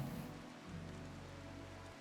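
Steady rain hisses over a low, droning ambient hum in the video game RimWorld, continuous and even for the whole stretch.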